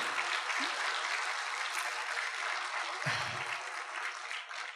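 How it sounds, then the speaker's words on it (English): An audience at a pro-Israel gathering gives steady, full applause for Stockwell Day, a continuous wash of many hands clapping with brief low murmurs underneath. "let's give a big clap offering."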